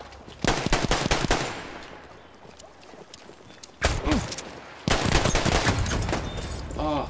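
Rapid bursts of automatic gunfire from a high rate-of-fire video game gun, loud and close, in several long volleys separated by short pauses.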